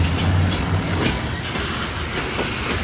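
A loaded freight train starts to roll near Kenova, giving a loud, steady rumble of wagons with faint clanking wheels.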